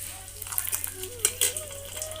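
Bay leaf, cloves and cinnamon sizzle in hot oil on a stove, a low steady fry with sharp crackles and a few clinks of a utensil against the pan; a faint background tone runs under it.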